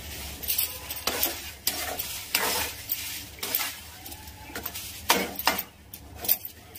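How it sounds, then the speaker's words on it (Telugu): A spoon scrapes and stirs around a pan of prawn curry with garam masala mixed in, repeated close clinks and scrapes over a soft sizzle, in irregular strokes. "సో ఈ అన్నీ ఒక్కసారి కలుపుకొని"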